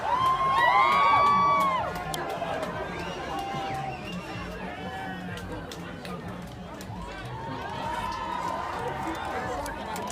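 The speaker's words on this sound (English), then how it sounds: "they're yelling at each other from across the street" People yell back and forth across a downtown street in Austin, Texas, their overlapping shouts and whoops rising over a noisy crowd and steady street bustle, a louder burst early and then continuing at a distance.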